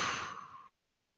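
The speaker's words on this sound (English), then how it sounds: "take a nice deep breath in and a relaxing out breath" A relaxing out breath during guided meditation, a single soft, airy exhale lasting under a second, close and gentle, then silence.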